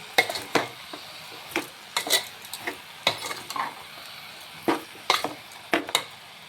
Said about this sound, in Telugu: దీన్ని ఒకసారి కలుపుకుందాం